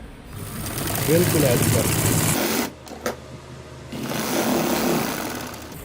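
Sewing machine stitching along the edge of a gents kameez cuff, a steady close mechanical whir that briefly stops and then resumes, with someone talking over it.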